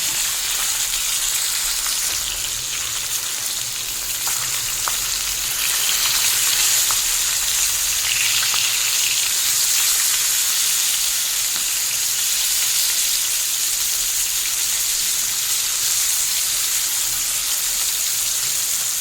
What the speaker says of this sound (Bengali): মাছ ভাজা হয়ে এসছে